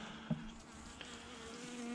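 Honeybees from a weak colony badly damaged by Varroa mites, buzzing during a November hive inspection. A soft, thin insect hum with a couple of brief louder buzzes as single bees pass close, fairly faint overall.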